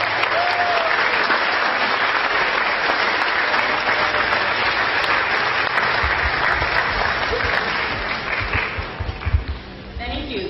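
Sustained audience applause greets a storyteller taking the stage, a loud, even roar of many hands that carries on for several seconds before tapering slightly, with a few low thumps near the end.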